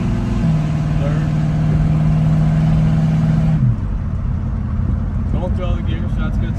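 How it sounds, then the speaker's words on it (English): Willys jeep engine on a test drive, revving steadily then dropping in pitch as it shifts into the next gear, a loud, close drone with a steady hum running beneath it. "we're test driving it, see if it shifts through the gears"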